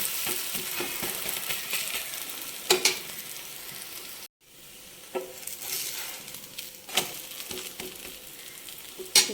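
A dosa cooking on a hot pan, a steady close sizzling and frying hiss broken by a brief silent gap and a few sharp clicks and scrapes.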